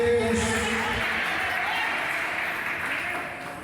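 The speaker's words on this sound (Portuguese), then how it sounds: "batam palmas e dê glória a Deus" A church congregation clapping their hands in praise, a dense wash of many hands at full strength that gradually fades toward the end, with voices faintly mixed in.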